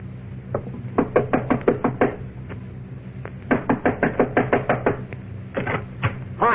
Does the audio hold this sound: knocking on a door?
yes